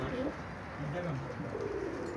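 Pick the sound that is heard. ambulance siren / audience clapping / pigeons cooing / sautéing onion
pigeons cooing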